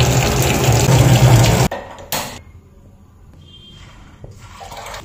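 Tap water gushes loudly over soaked chickpeas being washed, then cuts off abruptly after under two seconds, leaving brief clatters and low room noise.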